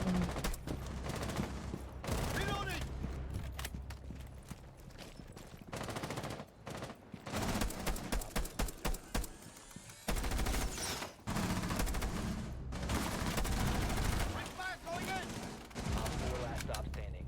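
Hip-fire gunshots in Rainbow Six Siege, dense rapid bursts of automatic fire recurring through the round, loud and close, with voices talking over the shooting and brief lulls between volleys.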